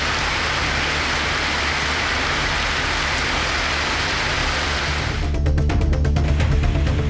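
Heavy rain pours down around Kumbakonam in Thanjavur district, a dense, steady hiss of falling water that carries on without a break, with a brief rise in rumbling near the end.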